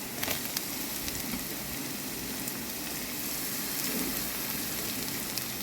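Chopped vegetables with onion sauté in a hot pan, giving a steady, close sizzling hiss with faint crackles throughout and no voices.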